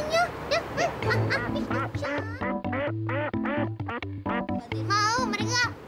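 Several ducks quack loudly and repeatedly nearby, overlapping calls in a busy flock, with a voice and other speech mixed in.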